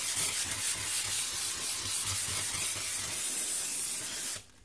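A steady, forceful hiss of compressed air sprayed from a can into a Dell XPS laptop, continuous for about four seconds, then cutting off abruptly.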